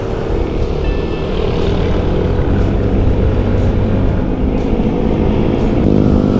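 Motorcycles on a winding mountain road near Antipolo give a loud, steady engine drone that holds close and continuous without a break, with no voices over it.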